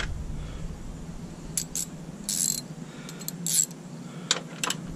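A socket tool loosens four 10 millimeter bolts from a Ram pickup grille, giving close, quiet ratcheting clicks and small metallic taps in short bursts over a low background hum.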